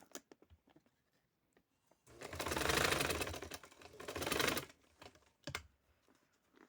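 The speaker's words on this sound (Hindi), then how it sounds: "यहाँ मैं फिर सिलाई लगाने लगी हूँ।" A sewing machine stitching fabric runs in a close, rattling burst of about three seconds, surrounded by soft clicks and handling of cloth before and after.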